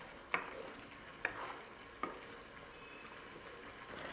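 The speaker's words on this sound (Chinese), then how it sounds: "我们就倒入草莓翻炒" Tofu being stir-fried with strawberries in a wok, three distinct spatula scrapes against the pan over a steady low sizzle, close and fairly quiet.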